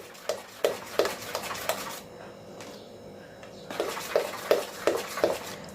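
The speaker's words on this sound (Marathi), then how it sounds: "आपण हे ढवळत राहणार आहोत एकीकडे घोटत राहायचं आहे हे" A ladle scrapes and knocks rhythmically through a thick bajri and wheat flour batter in a pot, a run of sharp clinks, a brief lull, then steady strokes resuming close by.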